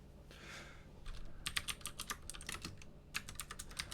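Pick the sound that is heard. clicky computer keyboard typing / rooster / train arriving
clicky computer keyboard typing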